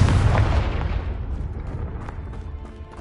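A Confringo blasting spell detonates in Hogwarts Legacy at a poachers' blockade, a loud booming burst at the start that rumbles and fades over a few seconds.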